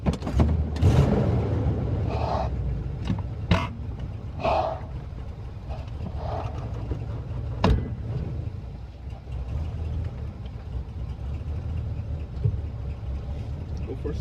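A 1982 Chevrolet Silverado pickup's engine cranks and fires with a loud burst, then settles into a low, rumbling idle with occasional knocks and clunks, a voice speaking over it at times.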